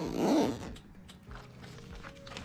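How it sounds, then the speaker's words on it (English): Zipper on a Happi Jac cushion cover being closed, a short close rasping pull followed by quieter scraping and fiddling with the fabric. "before trying to do these zips back up"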